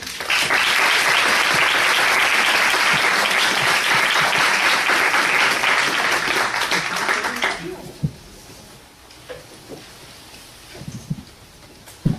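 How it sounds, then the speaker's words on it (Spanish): Loud audience applause at a senator's conference fills the first seven seconds, then fades out abruptly, leaving a few scattered claps and quiet room noise. "Le brindamos un aplauso, por favor."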